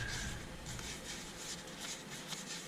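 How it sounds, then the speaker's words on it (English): Soft, repeated rubbing strokes of a cloth applying sanding sealer to a turned wooden bowl, close and quiet, in an irregular back-and-forth rhythm. "Where I try and stiffen up the wood with a bit of sanding sealer."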